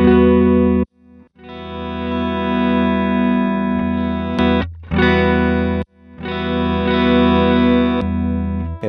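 Guitar run through a Neural DSP amp-modelling setup with a delay effect, sustained distorted chords that cut off abruptly to near silence when the foot switch changes preset, then resume; loud and close, no talk.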